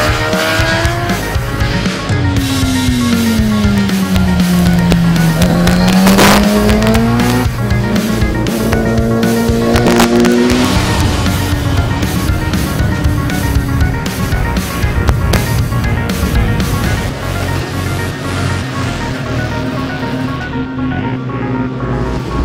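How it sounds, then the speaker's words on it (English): A Kawasaki ZX10 superbike laps a race track, its engine loud and close, pitch climbing and dropping through gear shifts and throttle changes before fading slightly toward the end. "We're going to test it out the ZX10 first"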